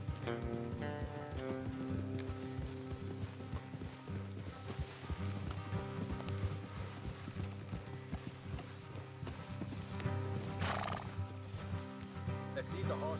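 Clip-clopping horse hooves plod along under Red Dead Redemption 2 game music, with a horse whinnying briefly near the end.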